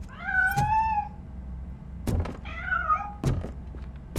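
A cat meows in the video game RoboCop Rogue City, two clear rising-falling meows about two seconds apart, each followed by soft thuds, close and moderately loud with no talk.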